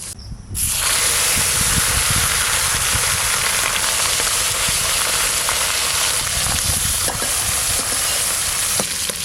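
Cumin seeds sizzle and crackle in hot oil for tempering, a dense, steady frying hiss that starts abruptly and holds loud and close throughout with small popping crackles.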